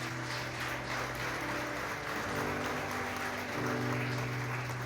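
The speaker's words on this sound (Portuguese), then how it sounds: "Aplaude ao Senhor gostosamente" A church congregation applauds during a Sunday service, a steady wash of clapping beneath a sustained low musical drone, moderately loud and continuous, with no voices standing out.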